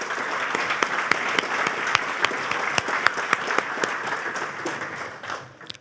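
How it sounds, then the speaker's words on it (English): Applause for the sponsors at a network operators' conference wrap-up, a room of hands clapping steadily with a few sharp individual claps standing out, tapering off toward the end; no talking. "so please give them a round of applause"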